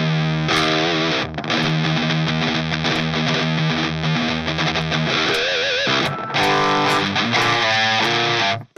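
Electric guitar driven through a JHS Bonsai overdrive pedal, playing heavy distorted chords and riffs loudly and continuously for most of the stretch, with a short break near the middle and an abrupt stop at the end.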